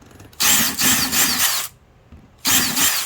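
A thick drill bit widens the entrance of a screw hole in a Daiso rubber wood piece, with two loud, close bursts of whirring drilling separated by a brief pause.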